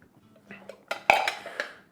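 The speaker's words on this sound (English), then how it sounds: "And then just spread this all around in the pan." Beef pieces spread around a pan inside a Ninja Combi, a few short metallic scrapes and clinks of a utensil against the pan, sparse and fairly close, one sharper knock in the middle.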